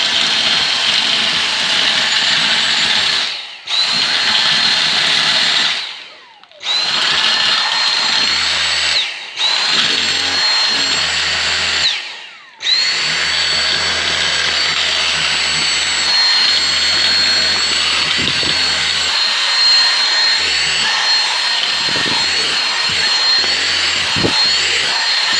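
A Dyson V6 cordless vacuum cleaner runs close by with a loud, high-pitched motor whine, dipping briefly several times early on before holding steady.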